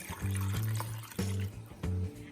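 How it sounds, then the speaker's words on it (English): A cup of water pours into a pressure cooker pot in a few gurgling, splashing surges with short breaks between, close and moderately loud, with no talking. "the last thing we're gonna add to our pot is 1 cup of water"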